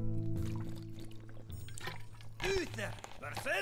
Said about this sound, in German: ich trinke jetzt mal einen Schluck